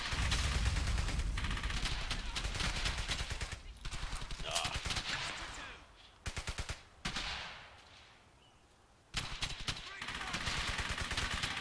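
Bursts of automatic gunfire from a BAR rifle in the Brothers in Arms video game, loud and near, firing in repeated rapid volleys with short pauses between them and a brief lull in the middle, with faint voices mixed in.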